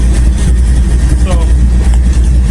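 Low, constant idle from a 1958 Edsel Ranger engine rumbles nearby in a shop, with voices talking over the steady drone.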